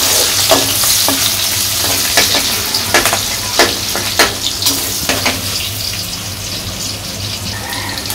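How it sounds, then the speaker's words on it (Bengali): Onions with garam masala fry in hot oil, a loud, close, continuous sizzle punctuated by repeated scraping stirs and crackling bursts that ease off toward the end. "তোমার পেঁয়াজটা ভাজা ভাজা হয়ে গেছে,"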